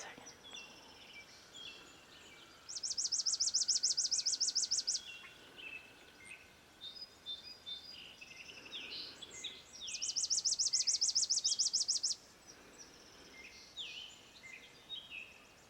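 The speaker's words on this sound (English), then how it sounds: "The birds love me." Birds singing outdoors at 6am, with two long, loud, rapid trilling songs standing out against scattered chirps and tweets from several birds, all set over a faint background hum.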